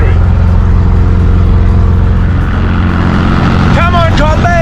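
A Volkswagen Kombi van labours uphill in third gear on a scenic road near a border, its engine droning steadily and loud throughout, with a person talking over it and a brief rising whine near the end.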